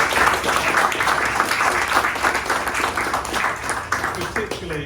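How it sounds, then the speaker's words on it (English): An audience applauds the illustrator at an evening book event, a full burst of many hands clapping with some murmuring voices mixed in, thinning out toward the end as people start talking. "we should probably have a round of applause for her"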